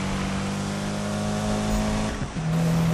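A race car engine revs hard during a street race, a loud sustained droning roar with a quick dip and shift before climbing again.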